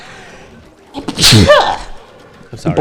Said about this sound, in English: Oh, I think I will sneeze.